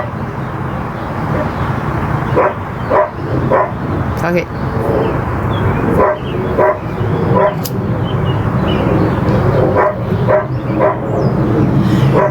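Four dogs bark and yip repeatedly in a close indoor space, sharp barks and whimpers breaking through steady background noise while someone talks over them.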